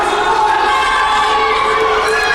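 A dense crowd roars and cheers continuously at a British wrestling show, loud and sustained throughout with no break.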